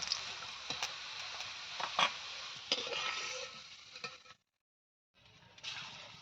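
Raw banana kofta frying in hot oil, a steady close sizzle with soft crackles that cuts out briefly and then resumes.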